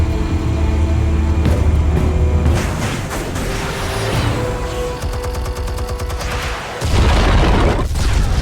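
A heavy boom from armed explosives being set off in the Batman Telltale Series game, with a rumbling, crackling blast layered over game music and sustained loud debris noise, then a second deep thump near the end.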